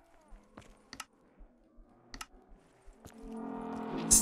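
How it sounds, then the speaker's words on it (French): Clicks from Minecraft-style buttons in a custom Black Ops 3 zombies map, a handful of sharp, separate taps spread across the moment, then a louder rising rush of game sound at the end. "c'est le bruit des boutons, c'est sur Minecraft"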